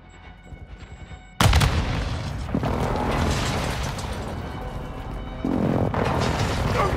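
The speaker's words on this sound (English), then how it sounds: "Friendly airstrike on the way." Heavy, loud explosions from an airstrike in Call of Duty: Modern Warfare II team deathmatch multiplayer, a sudden blast followed by sustained rumbling detonations and a second surge, with game ambience underneath.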